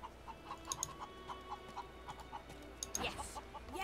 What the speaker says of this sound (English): I'm going to talk to these chickens.